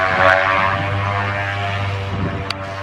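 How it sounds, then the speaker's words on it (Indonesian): Recorded aircraft sound blasting at maximum volume from a TOA loudspeaker set on a hillside, a steady propeller-plane drone with a constant low engine hum that echoes through the hills, with one brief click near the end. "Flash disk yang berisi suara pesawat saya colokkan. Kemudian saya hidupkan dengan volume maksimum."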